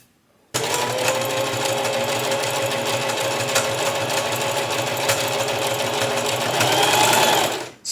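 A sewing machine stitches a T-shirt neck band, starting abruptly and running in a continuous fast, even whir close by for about seven seconds before stopping, with no talking.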